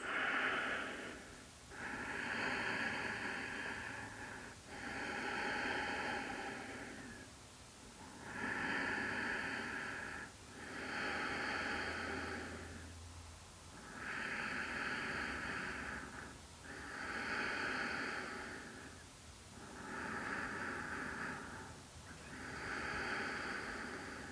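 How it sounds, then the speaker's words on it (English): Slow, steady breaths in and out through the nose during a yoga stretch, each inhale and exhale a soft airy rush repeating evenly about every three seconds, close and quiet with no talk. "Breathing in and out through the nose."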